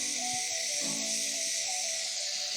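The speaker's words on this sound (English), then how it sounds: "So all you need to do, in a hot pan with some oil. Yeah, baby. And that's the sound you want to hear." Seasoned garlic pork sizzles in hot oil in a pan, giving a steady close-up hiss with faint crackles throughout.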